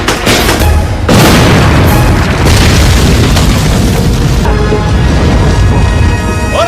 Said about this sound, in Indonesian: melempar bom ke mobil konvoi hingga membuatnya meledak